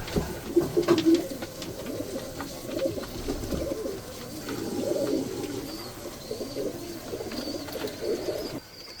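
Rahibe breed pigeons in a coop give steady, low cooing that rolls on continuously, close and fairly loud, with faint rustling in the background.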